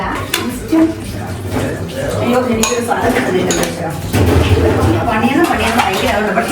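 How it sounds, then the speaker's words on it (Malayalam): Thick sweet payasam is ladled into a bowl at a home birthday gathering, with metal utensils clinking and scraping against vessels amid steady background clatter while people talk throughout. "സൗമ്യ ടീച്ചർ ഇങ്ങനെ ഇതാ ബൗളിലേക്ക് ഒഴിച്ചുകൊണ്ടിരിക്കുക പായസം"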